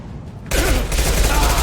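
Gunfire in the Mass Effect 2 video game erupts abruptly after a short quiet stretch, a loud, dense burst of rapid shots that continues to the end.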